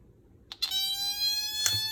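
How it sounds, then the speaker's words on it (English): An electronic alarm triggered by a heated thermistor starts with a click, then a steady high-pitched tone with strong harmonics holds loud and continuous, briefly interrupted by a click near the end. "And now the alarm is triggered"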